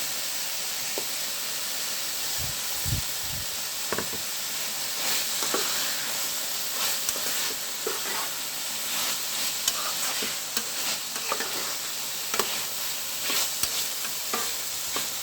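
Diced potato pieces seasoned with salt and turmeric frying in a pan, a steady close sizzle and hiss with occasional stirring scrapes and clinks throughout, no voices.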